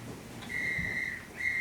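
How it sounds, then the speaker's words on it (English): A police whistle blasts shrilly twice in an outdoor theatre staging of a Sherlock Holmes mystery set on the moor. A long first blast is followed by a short pause and a second blast, both loud and clear over quiet background noise. "by the sound of those whistles, Beryl has been apprehended"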